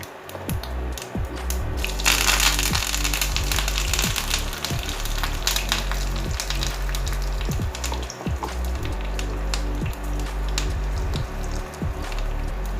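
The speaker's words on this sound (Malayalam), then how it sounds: "അതിലേക്ക് കുറച്ച് കടുക് ഇട്ട് കൊടുക്കാം കേട്ടോ. കടുക് നന്നായി പൊട്ടുണ്ട്." Mustard seeds pop and splutter in hot oil while tempering for a Kerala-style sambar. The sizzle is close and steady, with frequent small cracks over a low background hum.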